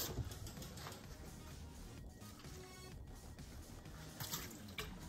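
A quarter cup of water poured over cut apples and pears in a dish, a soft continuous splashing trickle heard close and alone at low level.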